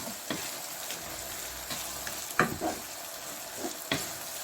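Tomatoes fry with aloo keema in a pan, a steady, moderately soft sizzle broken by several sharp pops and stirring scrapes, with no voices.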